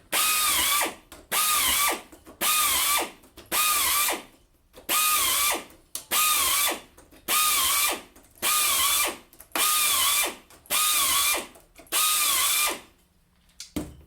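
Power drill boring shelf-pin holes through a Rockler JIG IT shelving jig, ten loud close bursts of about a second each in an even rhythm, each with a rising whine, separated by short pauses.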